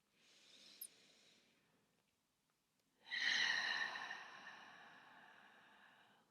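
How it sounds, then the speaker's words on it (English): Two slow, soft breaths are exhaled out through the mouth, close up and airy: a gentle breath first, then a longer, fuller one after a brief pause. "Inhale through the nose. Slow, soft exhale out the mouth."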